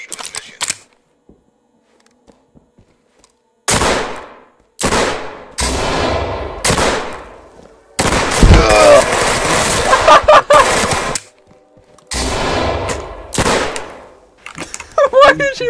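Gunfire and loud action bursts in the tactical shooter game Ready Or Not, coming in several separate dense blasts amid game noise, with talk mixed in between.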